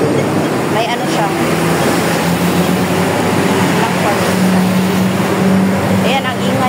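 Steady roar of highway traffic beside a roadside in a residential area on the way to a market, with vehicles rumbling past continuously and close, under people talking.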